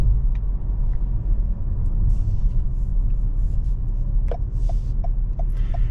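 A 2023 Toyota Camry SE Nightshade AWD cruising on the road: a steady low cabin rumble and road roar that stays even and continuous throughout, with faint higher ticks near the end.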